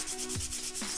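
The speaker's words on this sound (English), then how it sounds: "if I wanted to distress it further, I could use a little bit of sandpaper" Sandpaper rubs lightly over painted paper being distressed for a paper leather journal, a steady dry scratchy hiss with two or three short back-and-forth strokes, close and alone.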